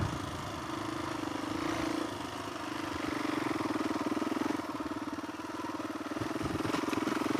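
A Suzuki DRZ400E dirt bike lugs along a tight wooded trail in second gear at low revs, its single-cylinder engine giving a steady, close, chugging thrum.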